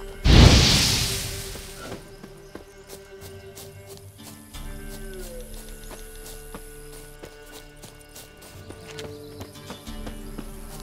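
A swarm of flies buzzes in The Witcher video game, with a sustained insect drone running under varied game sounds and hoof-like clip-clop. A loud burst opens the scene, then the buzzing continues at moderate level to the end.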